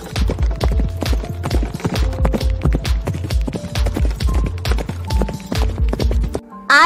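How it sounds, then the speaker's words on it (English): Rapid, rhythmic clip-clop of horse hooves on a hard surface, loud and steady throughout, with a tonal jingle running underneath. "Horse."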